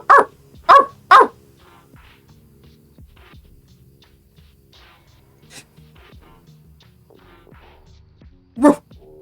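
A person imitates a dog with three loud, sharp barks in quick succession, then quiet low talk, and a final single bark near the end, all close to the microphone.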